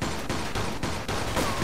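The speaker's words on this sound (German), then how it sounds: "Ich sehe nicht mal, von wo die schießen." Rapid gunfire in the video game Mafia II, a dense, loud, continuous barrage of overlapping shots with brief rhythmic surges, filling the scene with no voice over it.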